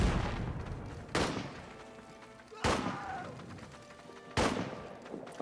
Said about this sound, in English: I don't like hearing gunfire that close